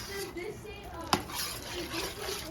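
Thick homemade pizza sauce stirred in a bowl, a soft continuous scraping and swishing with one sharp clink of utensil against the bowl midway, close up, with a faint voice in the background.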